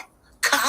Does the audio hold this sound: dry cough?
yes